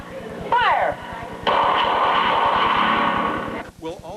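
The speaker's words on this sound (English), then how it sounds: "Shooter on the line. 3 steps forward. 3 rounds. Fire!" Handgun shots ring out at a police firearms training range, several rapid reports amid a sustained loud, distorted roar of range noise, with a commanding voice heard before and after the firing.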